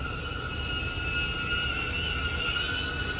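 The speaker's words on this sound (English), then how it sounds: "Oh, what the frick? There's a drone!" A drone passes overhead outdoors, a steady high-pitched whine with sustained tonal hum over low rumbling background noise, moderately loud and continuous without talking.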